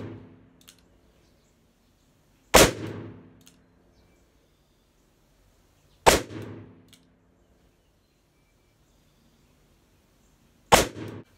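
Three loud, close reports from a 2020 Colt Python revolver fired double action with Winchester .357 Magnum 158-grain hollow point loads, spaced several seconds apart, each cracking sharply and then ringing out into near silence.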